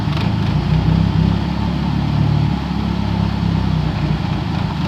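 A Honda Civic EK with an H22 engine idles close by, giving a steady, loud low rumble with a slightly uneven pulse and no break throughout.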